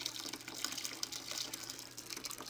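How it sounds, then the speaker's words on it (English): Sparge water running from a home-brew mash tun into a pitcher, a close, fluttering trickle and splash of liquid that stays steady and unbroken, with no talking. "Then we run it out into this pitcher, and I like to just pour it in like along the side."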